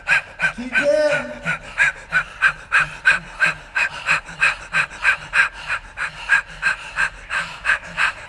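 People doing a dog-pant breathing exercise pant in quick, rhythmic in-and-out breaths, about two per second, close and loud, with a brief vocal sound near the start.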